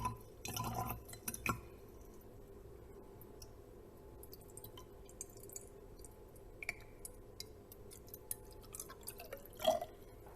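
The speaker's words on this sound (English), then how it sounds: "more water is added until the water level reaches the neck of the flask" Water added by hand to a glass volumetric flask in a lab, with soft drips, splashes and small glassy clinks scattered across a quiet background, one brighter drip near the end.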